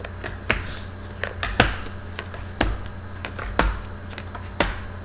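Cards drawn one at a time from a deck during a tarot-style reading, giving a series of sharp, close flicks and snaps spaced irregularly, with faint room tone between them and no voices.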